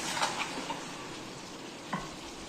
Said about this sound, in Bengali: এরপর ডিম এবং আলুগুলোকে দিয়ে দেব একসঙ্গে নেড়ে চেড়ে নেব